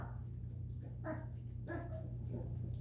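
Newfoundland puppies, a litter of seven, give soft yips and small barks in a few short bursts over a steady low hum, fairly close and quiet.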